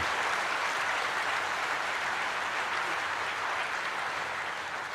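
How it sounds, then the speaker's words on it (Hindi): Loud, dense applause from a large audience at the commissioning ceremony of the aircraft carrier INS Vikrant, sustained evenly throughout with no voices over it. "एक बार जोरदार जानदार तालियों के साथ अपनी भावनाओं को व्यक्त कीजिए।"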